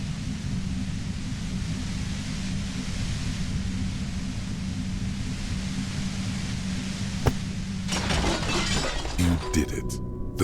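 A compressor machine in Disco Elysium gets smashed, a sharp crash with scattering debris and a few clanks near the end, rising over a steady low drone and some background voice.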